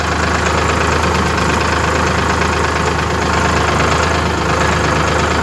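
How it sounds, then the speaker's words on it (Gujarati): A tractor engine runs steadily and loudly throughout, a continuous low mechanical drone with a knocking, idling character and no speech over it, beside a drumstick tree plantation. "ટ્રેક્ટરનો અવાજ બહુ આવતો હશે તો મિત્રો એના માટે માફી માગું છું."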